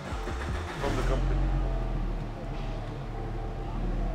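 A stock left-hand-drive Mitsubishi Evo engine starts up and settles into a low idle rumble indoors, with people talking over it.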